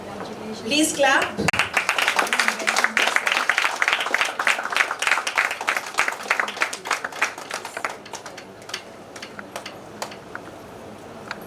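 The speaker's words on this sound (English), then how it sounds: "Please clap" A crowd at a women's awards ceremony claps for honorees, scattered claps building into steady applause that tapers to a few sparse claps toward the end, with voices mixed in.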